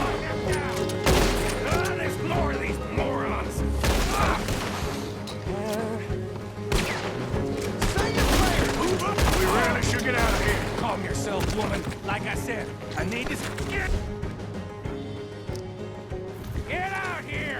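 Dense gunfire in Red Dead Redemption 2, repeated shots and rapid volleys cracking over a continuous bed of game noise with someone talking through it, loud and steady.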